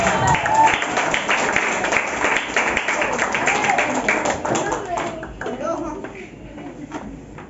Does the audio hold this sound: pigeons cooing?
no